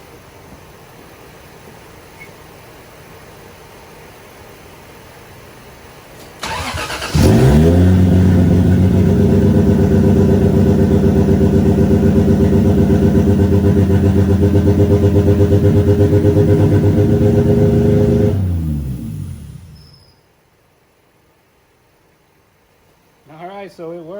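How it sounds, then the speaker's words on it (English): A Toyota Supra engine cranks and fires into a loud, steady idle that runs about twelve seconds before cutting off, followed by a brief voice. "so the engine's alive, which is good"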